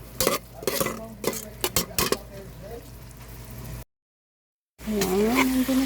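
Cooked rice is stirred with garlic and onion in margarine in a pan, spatula scrapes and clinks sounding in quick irregular bursts over a soft sizzle, with a short gap of silence before the stirring resumes louder.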